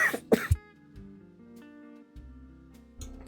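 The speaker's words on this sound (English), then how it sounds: "I'm coughing now as I'm starting to laugh" A couple of sharp, close coughs and throat clearing at the start, followed by quieter background hum and faint sounds.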